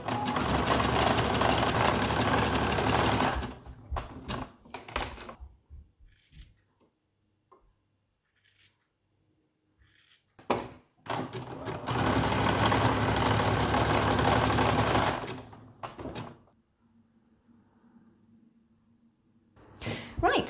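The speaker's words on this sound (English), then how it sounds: "we'll pop them under the machine and get them sewn into place now" An electric sewing machine stitching sleeves onto a jumper, two loud sustained runs of rapid mechanical whirring separated by quiet handling noises and brief taps.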